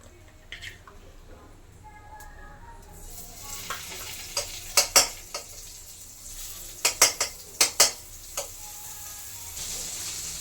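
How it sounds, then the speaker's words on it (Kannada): Butter sizzling in a hot pan, a steady hiss that rises partway through, with a run of sharp metallic clinks and scrapes of a utensil against the pan in clusters, close up and without talk. "ಅದೇ ಬಾಣಲಿ ಮತ್ತು ಫಸ್ಟಿಗೆ ಬೆಣ್ಣೆ ಹಾಕ್ಕೊಳ್ಳೋಣ"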